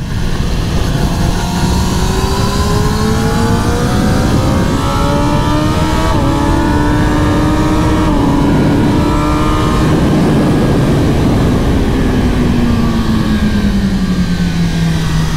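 Kawasaki ZX-10R 2021 superbike accelerating hard on track, engine note climbing through the gears with rising pitch sweeps and brief dips at each upshift, loud and close with continuous wind rush, no talking.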